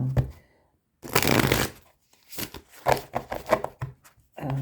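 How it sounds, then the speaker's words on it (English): A deck of cards being shuffled by hand, several crisp riffling bursts close to the microphone separated by brief pauses, with no talk over them. "I will keep shuffling until somebody tells me to stop."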